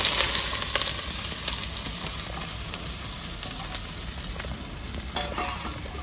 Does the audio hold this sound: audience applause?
no